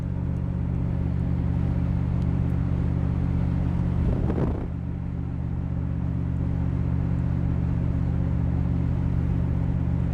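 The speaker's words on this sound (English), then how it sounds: "Car runs fantastic. Doesn't want to spit, sputter, stall out, anything like that." A 1971 Chevrolet Corvette with a 350 V8 drives along, its steady engine rumble and road drone continuous and loud throughout, with a brief swell near the middle as it shifts or accelerates.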